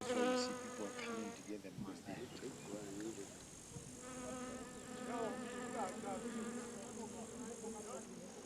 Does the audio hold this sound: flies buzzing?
yes